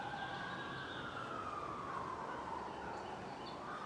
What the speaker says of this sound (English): You hear them sirens.